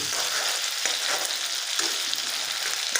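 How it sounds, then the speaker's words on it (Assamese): Ginger garlic paste frying in oil in a pan over a medium gas flame, a steady close sizzle with small crackles and occasional stirring scrapes, no talk. "এয়া আদা নহৰু পেষ্ট আমি ভাজি লৈছোঁ"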